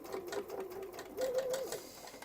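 A sewing machine stitches a 1.5 centimeter seam on a bag, a close, rapid mechanical whirring in two short runs with a slight pause and a rise in pitch during the second burst.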